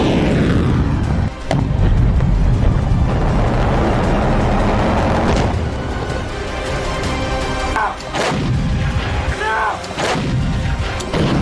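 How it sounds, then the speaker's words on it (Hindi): Wartime artillery and gunfire from a Russian counterattack targeting a boat in the Ukraine war; a loud, continuous roar of blasts and booms with sharp reports punctuating it, harsh and distorted throughout. "एक बार देखिए रूस ने जवाबी हमले में कैसे बोट को निशाना बनाया।"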